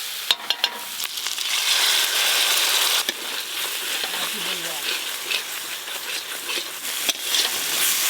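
Spice paste of turmeric, green chili, poppy seed and cashew sizzles steadily in hot oil, with scraping stirs and occasional clinks of a spatula against the pan, close and continuous.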